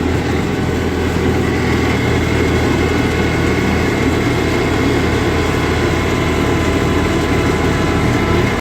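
A snow blower engine runs steadily while clearing overnight drifted snow during a blizzard in Uxbridge, Ontario, giving a loud, continuous broadband roar with no break for the whole stretch.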